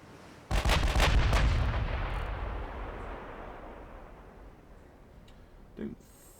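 Heavy naval guns firing in the warship battle game Ultimate Admiral Dreadnoughts, including 7-inch guns: a loud close volley of booms rolling into a long fading rumble, then a fainter single report near the end.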